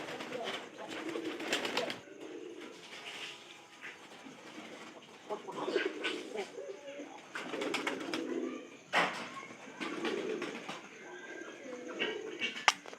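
Pigeons kept indoors in their house coo softly, with repeated low calls close by, broken by short bursts of flapping and shuffling movement.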